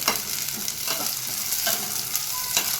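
Green beans frying in a pan for a tomato veg biryani, a steady close sizzle broken by several scraping stirs of a spoon, with no talking.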